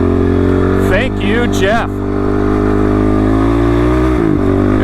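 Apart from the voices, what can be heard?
Honda motorcycle engine accelerating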